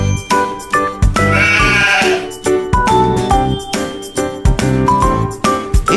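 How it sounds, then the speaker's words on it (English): A sheep bleats once, a short wavering baa up close, layered over cheerful rhythmic music that keeps playing throughout. "It's a sheep."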